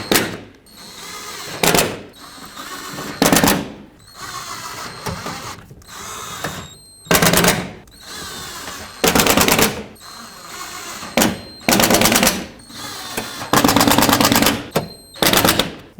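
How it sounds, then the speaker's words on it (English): Power driver bursts running screws into a Toyota Sequoia liftgate latch (2001–07), about a dozen short whirring runs separated by pauses, close and loud. "Start in all the screws and snug them up."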